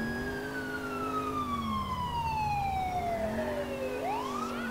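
A police car siren in the video game GTA IV wails loudly and continuously, sweeping downward in pitch before a rising whoop, over a low engine drone.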